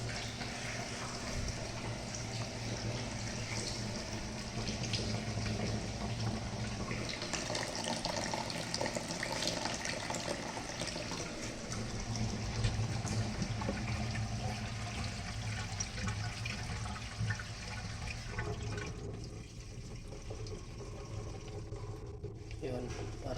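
Water runs steadily over a granite slab during a leak test, a continuous broad splashing wash that stays loud throughout and eases slightly near the end, with faint voices underneath.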